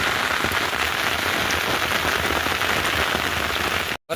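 Storm-driven heavy rain on a farm hammers down in a continuous close hiss of drops striking surfaces, holding steady before a sudden brief drop-out at the end.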